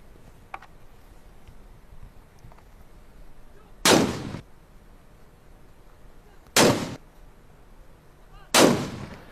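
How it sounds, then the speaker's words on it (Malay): Three ceremonial cannon blasts from a Brunei Eid (1 Syawal) salute fired by police at a public park in the capital, each a sharp loud boom with a short rolling tail, spaced a few seconds apart over quiet outdoor ambience. "1 Syawal disambut dengan 12 das tembakan Maryam."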